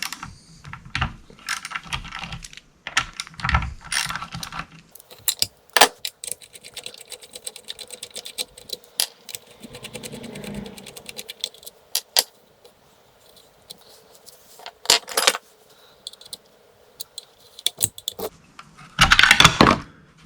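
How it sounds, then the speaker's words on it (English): Small metal clinks, rattles and taps come from work on the muffler of a Homelite XL-12 chainsaw whose engine dies out. The sounds are close, irregular and intermittent, separated by quiet pauses, with a louder burst near the end. "so we'll pull the muffler off real quick and just see if there's any obstructions in there"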